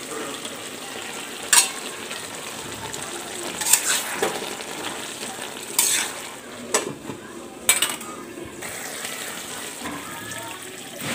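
Tomatoes stir-fried in a pan for a home-cooked fish dish, giving a steady soft sizzle with a few sharp clinks of a utensil against the pan, heard close and fairly loud.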